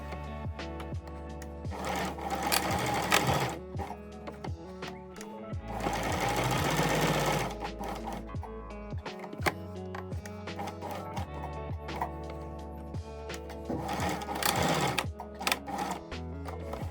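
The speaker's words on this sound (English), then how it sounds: "you can just sew a buttonhole using a small zigzag stitch" A sewing machine sews a buttonhole with a small zigzag stitch, running in loud, steady mechanical bursts that stop and restart several times, close up with no talking.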